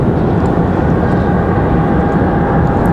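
CRJ regional jet arriving at Raleigh-Durham International Airport, a loud, steady broadband jet engine roar close by, continuous throughout with no talk over it.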